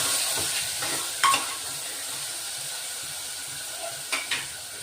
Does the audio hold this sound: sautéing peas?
yes